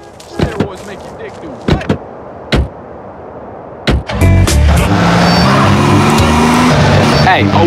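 A car in the game GTA San Andreas gets going after a few scattered sharp knocks and thumps, then a loud, sustained engine roar with rising tone fills the rest of the clip.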